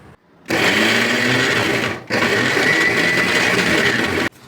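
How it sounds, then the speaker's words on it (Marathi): Mixer grinder blitzing ginger, garlic, coriander and chilli into a masala paste, a loud steady whirring drone in two long bursts split by a momentary stop, ending abruptly. "आपण अद्रक लसूण कोथिंबीर मसाला वाटून घेतलेला आहे."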